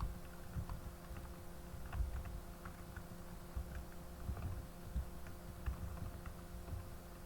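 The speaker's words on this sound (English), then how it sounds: "Sorry if you can hear my keyboard, but I can't really help that." Soft, uneven clicks of typing on a computer keyboard sound faintly in a quiet room, with a steady fan hum running underneath.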